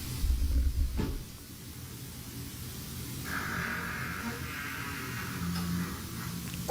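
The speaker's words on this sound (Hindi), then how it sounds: "ये रूम का दरवाजा किसने खोला ब्रो?" A room door opens with a dull low thump near the start, followed by a long airy hiss and hum that fills the rest of the otherwise quiet room.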